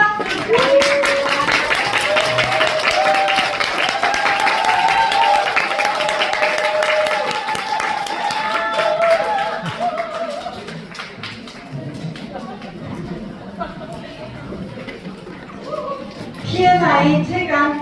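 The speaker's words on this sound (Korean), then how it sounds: "앞으로 모실 때 큰 박수 부탁드립니다" Audience at a product seminar applauding, a loud dense sustained wash of many hands clapping that gradually thins toward the end, with a voice speaking near the close.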